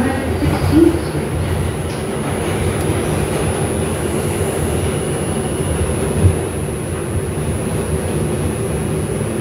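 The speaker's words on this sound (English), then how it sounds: "This is a Brooklyn-bound 2 local train." A Brooklyn-bound 2 local train on the New York subway rumbles steadily along the track. The loud, continuous low roar and rattle stays even throughout, with a brief clunk about six seconds in.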